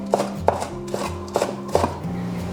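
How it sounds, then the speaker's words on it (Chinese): Knife chopping pickled chilies into rings on a cutting board, a series of sharp close chops in an uneven rhythm, about five distinct strikes with faint kitchen hum beneath. "再准备几根这种泡椒哈，我们切圈。"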